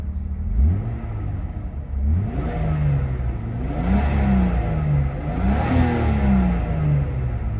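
A Jeep with a 4.0 liter engine running, a close, loud, steady idle that revs up and down several times in smooth rising and falling swells.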